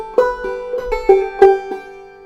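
Clawhammer banjo plays a short phrase from the tune Waynesboro, a handful of bright plucked notes including a quick triplet pull-off, close and alone.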